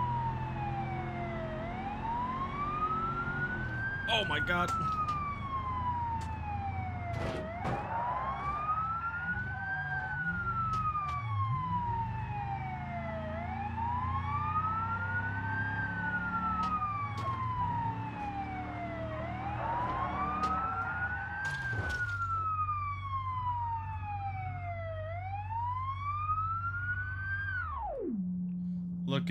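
Police car siren in the BeamNG driving game, a loud, continuous wail rising and falling in steady repeated sweeps, layered over engine rumble and crash noises, with a voice exclaiming briefly.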